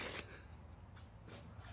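Cleaner sprayed onto a brand new dirt bike at a motocross track, a short sharp hiss of spray at the start followed by a couple of softer, quieter spray bursts.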